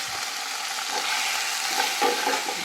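Turmeric, cumin, coriander and chili powder sizzle in hot oil for a fish-head and lentil-dumpling curry, a close steady frying hiss with a few soft stirring scrapes.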